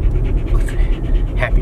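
A dog pants quickly and rhythmically up close, a steady run of short breaths with faint background noise.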